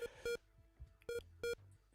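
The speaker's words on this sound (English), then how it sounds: "if I hit one of the cars, it just beeps at the moment" A bare electronic beep marks each collision in an unfinished ZX Spectrum racing game, sounding as a quick series of short, sharp tones with brief gaps, one pair and then two more separate pulses.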